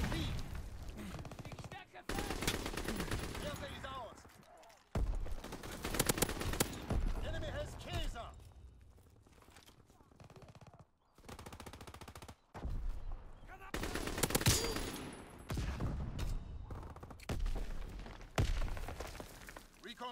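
A Lewis machine gun fires in long, loud, rapid bursts in a first-person shooter game, the volleys separated by brief pauses, with voice callouts heard among the gunfire.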